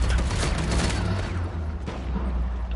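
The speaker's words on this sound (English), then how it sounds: "I'm throwing a nade in the middle here." In the video game Uncharted, a thrown grenade goes off in a heavy, rumbling blast with dense gunfire-like crackle, and the boom stays loud and sustained before tapering slightly near the end.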